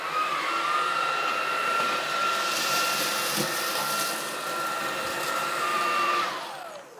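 A Dreame Z10 Station cordless stick vacuum fitted with a soft brush head cleans a floor, producing a loud steady whooshing roar with a high motor whine that shifts slightly and fades at the end.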